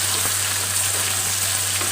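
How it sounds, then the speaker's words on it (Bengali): Fish sizzling steadily in hot oil in a pan, a continuous bright frying hiss with a low steady hum beneath, close and even throughout with no talking. "এবার লাল লাল করে ভেজে নিব"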